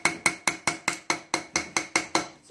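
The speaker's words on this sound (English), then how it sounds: "Then you take this mallet and then put it on the top and start hammering like you're trying to pin a nail" A mallet striking a metal tool driven into sandstone, with eleven sharp, evenly spaced ringing blows in a steady rhythm, loud and close, each decaying quickly before the next.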